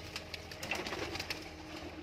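Blue bar pigeons coo softly nearby, a few short rounded calls repeating over a quiet background with no voices.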